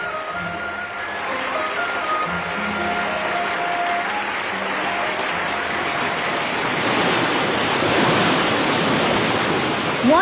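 Water flowing in abundance, heard as a steady, loud rushing roar like a broad torrent that swells louder toward the end, with faint tonal sounds underneath at the start.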